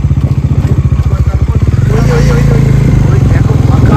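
Motorcycle engine putters in a steady, close, loud pulsing rhythm, then rises to a denser roar as the bike rides at night along a dark, empty jungle road.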